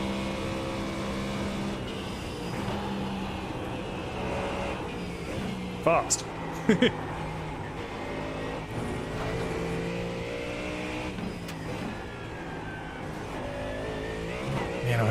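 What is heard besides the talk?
GT3 race car driving around the Nurburgring, from a racing video game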